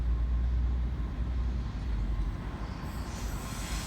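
An NR class locomotive in GAN livery hauls a steel train through platform 2 at Rockdale station in Sydney, a loud, close, continuous rumble of wheels and wagons with squealing rail noise throughout.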